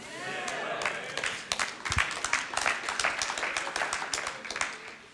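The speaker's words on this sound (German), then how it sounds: "Da kam mir ganz ehrlich gesagt zu wenig Applaus." Audience applause at a conference, moderate and somewhat thin, with scattered clapping that rises and falls over a few seconds in a large hall.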